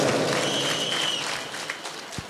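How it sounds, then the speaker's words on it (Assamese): An audience applauds the daughters-in-law of a village at a motivational talk, with dense, loud clapping at first that gradually thins and fades over about two seconds. "বোৱাৰীসকলৰ বাবে এটা হাত চাপৰি হ'ব লাগে।"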